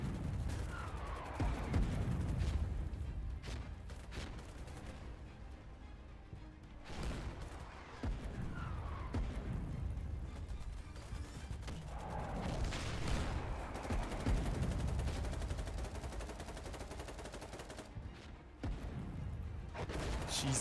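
Artillery barrages and machine gun bursts in a tank video game, with heavy booms and rattling fusillades rolling through repeatedly, loud and continuous, with a voice talking at times.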